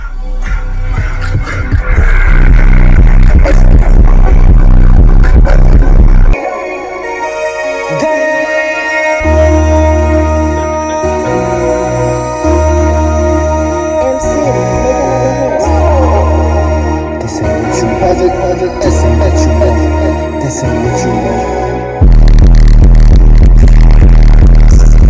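Loud, booming bass-heavy music thumps from a car stereo, with a steady pulsing low beat that stops abruptly near the end.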